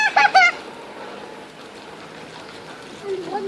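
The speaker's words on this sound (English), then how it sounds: "Look at that bird over there." A goose-like bird honks a few times near the start in a park, then fainter calls later under quiet background noise.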